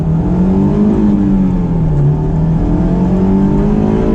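A Honda S2000 with its VTEC engine accelerates hard, heard from inside the car: a loud, steady engine drone that climbs in pitch through the gears, with no talking over it.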